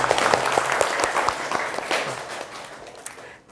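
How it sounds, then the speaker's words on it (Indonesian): A group bursts into lively applause after a lesson on configuring a MikroTik router as an internet gateway, the dense clapping steady and then fading away near the end. "mari beri aplaus"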